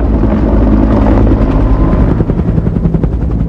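A Bell UH-1 Huey military helicopter flies close by, its loud, steady rotor thump pulsing rhythmically over a dense engine roar throughout.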